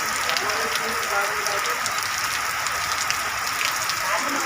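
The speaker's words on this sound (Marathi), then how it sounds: "पाऊस चालू आहे महाराष्ट्रात" Heavy downpour in Palus, Sangli, Maharashtra, with cold wind: a dense, steady roar of rain hissing evenly on surfaces, loud and continuous with no pauses.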